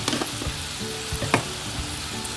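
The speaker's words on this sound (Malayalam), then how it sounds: "ഇത് നന്നായിട്ട് തിളക്കിണ്ട്" Sauce for bread manchurian bubbles hard in a pan, a dense, steady sizzling hiss with a few sharp pops and stirring clinks, no voices.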